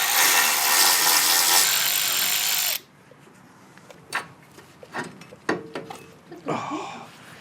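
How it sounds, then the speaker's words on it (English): A loud power tool whirs for a few seconds while an old brake line comes off a car, then stops, followed by scattered metallic clanks and tool knocks nearby. "Go ahead and pop off this old brake line."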